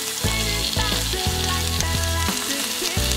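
Fresh vegetables are stir-fried in a wok inside a camper van by Qinghai Lake. A constant close sizzle runs under a steady droning tonal backdrop, with occasional clinks from stirring.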